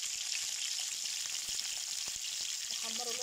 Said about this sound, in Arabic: هنزل دلوقتي بالفلفل بتاعنا عشان يتحمر